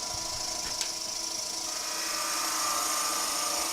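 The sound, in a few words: woodturning lathe hollowing out wood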